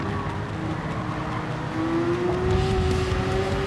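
Race cars in a racing game battle for position on the Lago Maggiore circuit, a BMW among them, engines droning steadily with a rising whine as one car passes another.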